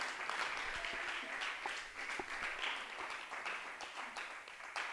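A church congregation applauds during a Spanish-language sermon, a steady, dense wash of many hands clapping together that holds evenly throughout, heard from within the room.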